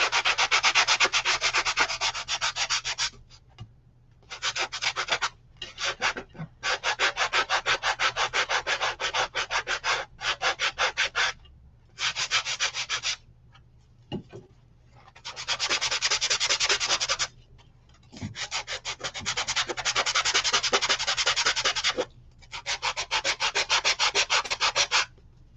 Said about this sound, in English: Gotta sand her down a little.